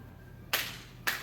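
Two sharp hand claps ring out in a dance class, about half a second apart, each crisp and fairly loud over a quiet room with no talking.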